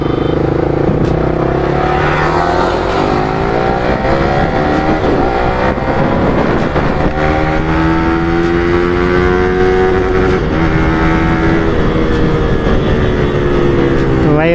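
A motorcycle pulls away after refuelling and rides along a road, its engine droning and rising and falling in pitch as it shifts through gears, with loud wind rush throughout.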